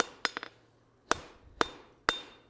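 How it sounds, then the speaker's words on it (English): Hammer blows ring out on a steel tong blank against an anvil during forging of precut box jaw tongs: a quick cluster of three strikes, then three louder, evenly spaced ringing hits, close and with no talking. "we are going to go ahead and hammer this to the width of the anvil here"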